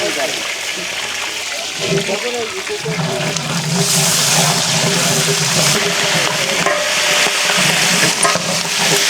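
Green chilies frying in a pan in a village-style kitchen, with loud continuous sizzling and bubbling that swells midway, plus stirring under a voice speaking.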